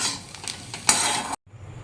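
Potatoes frying in a pan: a hiss of sizzling oil with scraping and stirring clatter, a louder burst partway through, then an abrupt cut to near silence before a faint hiss returns.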